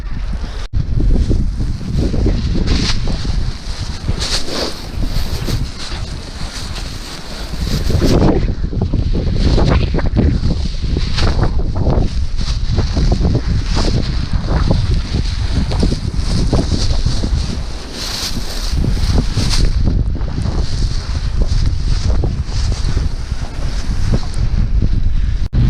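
Strong wind roars during a December blizzard snowstorm, a loud, continuous buffeting rush with gusty surges that batter the microphone for the whole stretch, with no talking.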